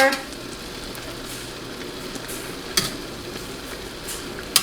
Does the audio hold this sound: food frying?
yes